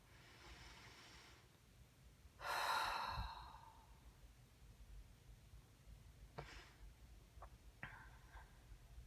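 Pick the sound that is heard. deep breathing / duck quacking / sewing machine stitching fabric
deep breathing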